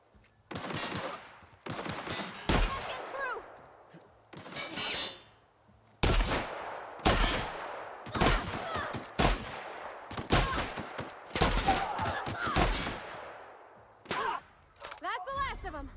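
Repeated shotgun blasts in The Outer Worlds, a dozen or so sharp loud bursts in irregular clusters across the whole stretch, with game effects and a voice now and then between shots.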